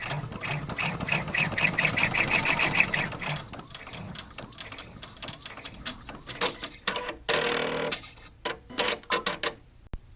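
An embroidery machine sews a placement stitch for a marine vinyl alert bracelet, a rapid close mechanical chatter for about four seconds, then irregular bursts of stitching with short pauses in between.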